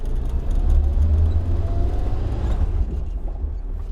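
A Suzuki SJ 4x4 climbs uphill in low gear, its engine giving a loud, low, steady drone that eases off toward the end, with no talk.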